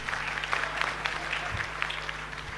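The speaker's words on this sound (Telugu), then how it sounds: "ఒకసారి గట్టిగా చప్పట్లు కొట్టండి." Audience clapping at a Telangana folk song event, a dense continuous patter of many hands filling the space at steady loudness, with a low hum beneath and no voices.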